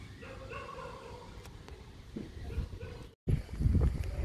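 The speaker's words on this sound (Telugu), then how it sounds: "ఈ కుక్కలు కూడా సౌండ్ చేస్తున్నాయండి" Dogs bark and yip off in the distance, a scattered run of calls with a whimper among them, then a louder stretch near the end.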